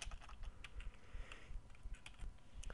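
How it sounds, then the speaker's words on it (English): Fingers type on a computer keyboard, a steady patter of close, soft key clicks entering a number, with no talking. "So we're just going to type that into that."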